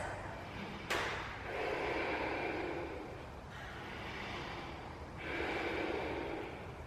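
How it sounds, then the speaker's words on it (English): Slow breaths in and out through the nose during a beginners' Ashtanga yoga class, with a sharp inhale followed by long soft airy exhales, quiet and close. "We're just breathing in and out through the nose for now."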